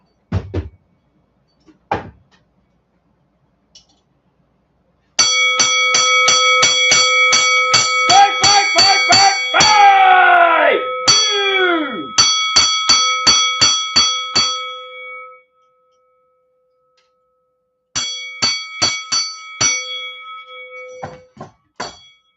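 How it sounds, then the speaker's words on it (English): Flight bells ring in loud, layered bursts of bright metallic strikes, with a dense cascade of overlapping tones in the middle, then a quiet gap and a final shorter volley, with no voices. "I didn't sound my flight bells."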